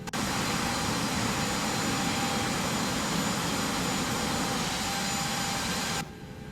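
Jet engine of a Boeing 737-800 in the X-Plane 11 flight simulator spooling up: a loud, steady, broadband roar with a high whine that holds for about six seconds, then drops sharply in level at the end.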